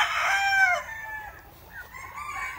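A rooster crows loudly and close, a long, drawn-out call, followed by softer clucking and calls from other chickens over a quiet background.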